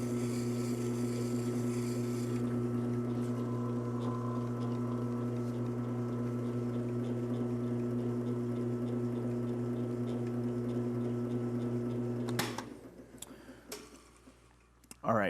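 Drill press powered DIY sharpener honing the back of a chisel on rough 120 grit sandpaper to flatten the burr, a steady loud motor hum and abrasive hiss running continuously, then cutting off abruptly near the end.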